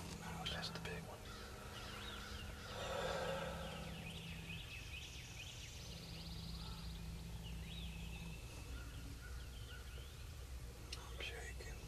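A wild turkey gobbles in the distance during a Georgia spring turkey hunt, a brief rattling call rising over outdoor ambience while hunters whisper quietly nearby.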